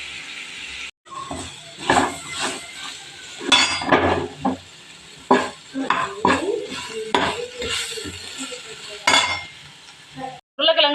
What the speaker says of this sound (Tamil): இதை நல்லா நம்ம மிக்ஸ் பண்ணிக்கலாம்.